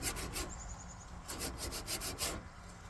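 Sandpaper rubbing along the edge of a wooden butcher block in a series of short, rhythmic scratchy strokes, close and fairly loud, with a brief faint high tone partway through.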